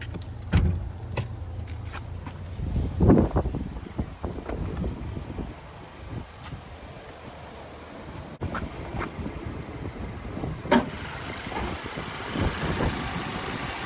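A 2021 Subaru Outback 2.5-liter four-cylinder engine idles steadily with the hood open, recorded outdoors with wind buffeting the microphone and a few clunks and knocks along the way.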